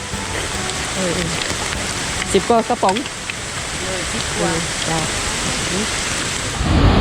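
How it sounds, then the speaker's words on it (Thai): Rain falls steadily in the Bolaven Plateau forest of southern Laos near a waterfall, a constant hiss of drops throughout while people talk and chatter in brief bursts over it. "เราลงมาฝนตกพอดี"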